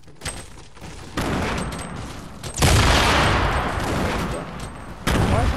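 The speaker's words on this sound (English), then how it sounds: "Grenades being freaking tossed everywhere" Grenades going off in a Fortnite match, heavy booming blasts that arrive in loud bursts, one big explosion mid-way followed by a sustained roar and another blast at the end.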